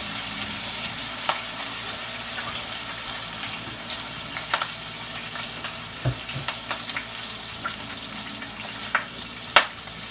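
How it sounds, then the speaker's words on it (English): A pot roast sears in a hot pan, giving a steady close sizzle and crackle with scattered pops and clicks of handling throughout. "Place the pot roast right in the hot pan."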